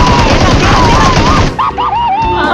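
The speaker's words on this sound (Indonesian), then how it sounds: "Kenapa aku lepas nembak?" PUBG Mobile gunfire, a loud rapid burst of automatic shots filling the first half, followed by game sounds and chatter as the firing stops.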